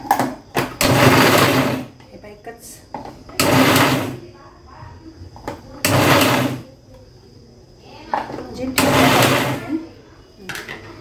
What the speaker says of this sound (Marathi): मी आता थोडं मिक्सरमध्ये असं गरमरीत पटकन फिरवून घेते